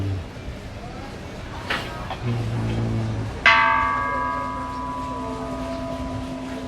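A temple bell rings once from the bell tower at a Thai temple, its long shimmering tone decaying slowly after an earlier softer clang and some background noise.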